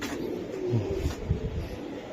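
A giribaj racer pigeon gives a couple of low, soft coos close by, short and isolated over faint background noise.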